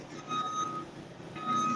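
A reversing vehicle's alarm sounds in the background with two steady, high electronic beeps separated by a short gap, over a low room hum.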